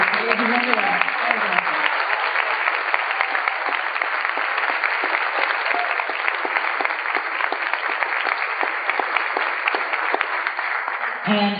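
Steady, sustained audience applause in a concert hall recognising a composer, dense even clapping from a large crowd lasting throughout, with a voice briefly audible at the start.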